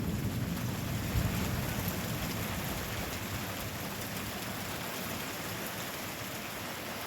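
Steady heavy rain pours down continuously in the Uttarakhand hills, with a broad hiss and dense pattering; a brief low rumble of thunder rises near the start.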